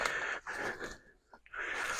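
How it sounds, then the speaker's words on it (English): A deer doe gives a faint, breathy alarm snort, a couple of airy blows separated by a short pause, heard from some distance in a quiet field. "when I hear a doe blowing, it just makes me mad"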